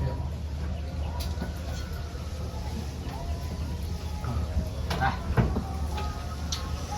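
Chickens cluck and a rooster calls faintly in a backyard flock kept as a hobby, scattered short calls over steady low rumble and background noise.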